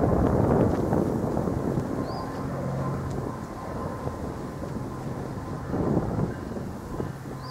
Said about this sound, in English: Norfolk Southern train NS 361.